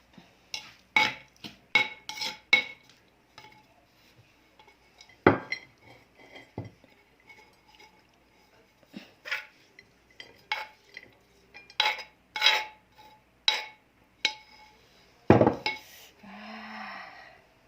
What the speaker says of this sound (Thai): เทใส่จานเลย